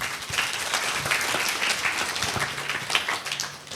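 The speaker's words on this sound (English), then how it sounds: "Okay, applause to this group," A group in a workshop or class session applauds together, a steady round of mixed hand claps filling the room at close range, with a few distinct sharper claps and a faint voice or two underneath.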